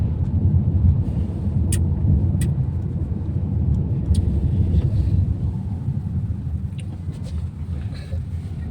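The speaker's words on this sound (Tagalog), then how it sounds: "The small jeep they're running down the street." Small jeep driving down a street in Kuwait, heard as a steady engine and tyre rumble from inside or near the vehicle, with a few light clicks and no talk.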